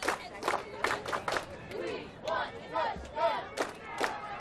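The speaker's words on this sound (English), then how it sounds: "Crowd wants another score here." A crowd at a 1998 high school football game between BV and William Penn roars late in the game, with loud yells and cheers rising in repeated bursts from the stands.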